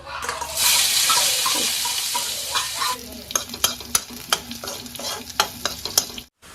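Loud sizzling as chopped shallots are added to hot oil, a bright hiss followed by repeated clacks of a spoon stirring the pan.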